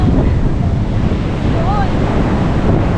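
Sea waves wash steadily onto a beach beside a seaside hut, a constant rushing roar mixed with gusty wind buffeting the microphone, with no clear talk.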